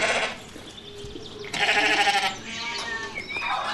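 Sheep just treated with drench bleat loudly and nearby, several overlapping wavering calls in a farm pen with no talking.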